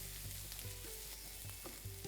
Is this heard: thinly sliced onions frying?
yes